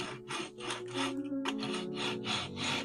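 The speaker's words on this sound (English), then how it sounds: "these they grind a little bit slower on the wood" Fingerboard trucks grind on waxed wood, a rough, rhythmic scraping repeated in short strokes with a brief pause partway, close and steady.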